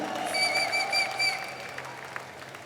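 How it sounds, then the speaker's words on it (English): Audience applause for the actors at a lively Kochi music-album launch event, a steady wash of clapping with whistles and cheers riding over it, strongest early then thinning slightly. "Loud round of applause for the actors."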